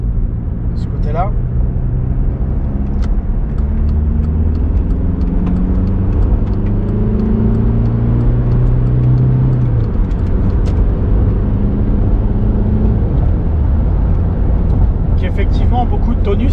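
Volkswagen Golf 4 1.9 TDI 115 hp diesel from 2000 accelerating, heard from inside the cabin as a loud, steady engine drone with rising tones through the gears, while someone talks over it throughout.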